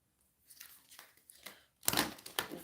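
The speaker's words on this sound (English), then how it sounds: "let's shuffle some more." Tarot cards being shuffled by hand, with soft papery riffles and brushes early on, then a louder burst of crisp card slaps and rustling near the end, close and with no talk.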